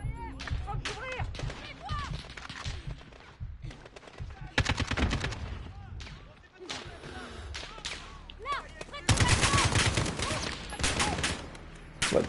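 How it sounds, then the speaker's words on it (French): Short bursts of automatic gunfire in Call of Duty Modern Warfare, sharp rapid rattles repeating in clusters, loud and close, with a heavier sustained volley near the end and voices talking in between. "Des courtes rafales"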